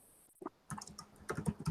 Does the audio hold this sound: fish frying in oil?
no